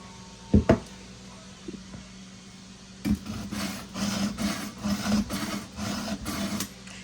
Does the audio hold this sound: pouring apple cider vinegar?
no